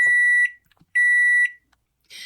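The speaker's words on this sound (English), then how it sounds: "You warm up the meatloaf in the microwave. Beep, beep, beep, beep, beep." Electronic beeping from an appliance: a steady high tone sounding twice, each about half a second long, with a short gap between them, close and clear.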